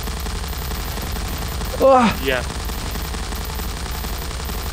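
A short burst of gunfire from the video game Garry's Mod rattles out over low background noise, with a brief second burst just after, and a single spoken word is heard.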